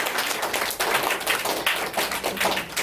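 A group claps together at a question-and-answer session, steady rapid bursts of hand claps in an indoor room, fairly close and unaccompanied by talk.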